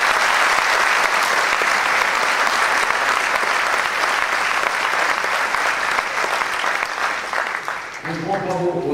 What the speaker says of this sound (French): On peut à nouveau les applaudir.